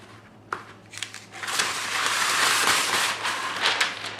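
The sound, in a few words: parchment paper being handled and pulled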